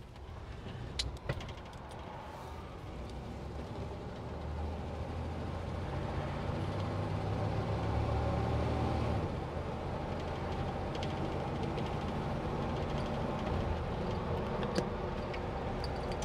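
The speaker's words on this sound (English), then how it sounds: "Riding as a passenger in the back of a real checker" A real NYC Checker A-11 taxi cab driving, heard from the back seat as a steady, broad rumble of engine and road noise that swells after a few seconds and holds, with no talking.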